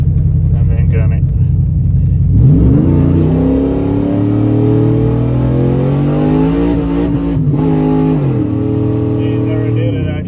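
A car with a swapped-in 6L80 automatic transmission, rolling at about 30 then floored to full throttle, its engine roaring loudly and climbing steadily in pitch through the gears, with a brief dip during a shift, close and continuous.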